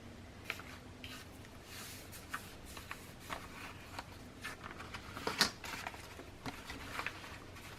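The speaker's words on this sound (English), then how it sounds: "We are going to fold this up like this." Sheets of paper are folded and creased by hand for a journal signature, a series of quiet rustles, taps and soft scrapes close up, with no voices.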